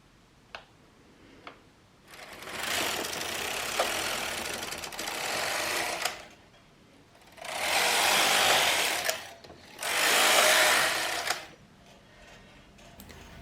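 A domestic knitting machine with a ribber works rows of 1x1 ribbing, its carriage swept back and forth in four loud rasping passes of one to two seconds each, separated by short quiet gaps and a few light clicks.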